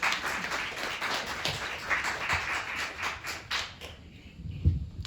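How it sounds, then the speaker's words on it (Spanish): A church congregation claps along at a service, a dense, even run of hand claps that carries on for several seconds before thinning out, with a few louder knocks near the end. "vamos a darle un aplauso al Señor"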